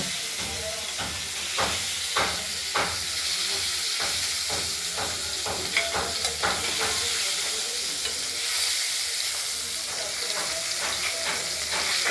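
Steady frying sizzle of rohu fish with broadband hiss, punctuated by occasional scraping or stirring clicks, close up and continuous throughout.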